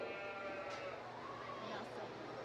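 Goat bleating in a county fair livestock arena, a wavering bleat carried above steady crowd murmur and nearby talk throughout.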